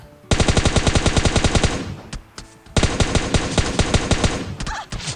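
Rapid automatic gunfire from the mobile battle royale game PUBG Mobile, two long loud bursts of closely spaced shots separated by a short pause, with a few scattered single shots between them.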